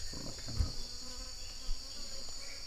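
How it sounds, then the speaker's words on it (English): Insects such as wasps and flies buzz in a jungle, a steady faint high drone with a few brief low thumps close by, no voices. "it's wasps everywhere, flies everywhere"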